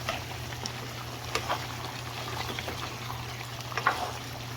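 Chicken afritada in tomato sauce with carrots simmering in a pot, a faint soft bubbling and patter with a few light clinks of stirring, quiet and close, no voices.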